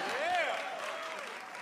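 Audience applause at a live show, a continuous clapping wash with a voice talking and vocalizing over it near the start.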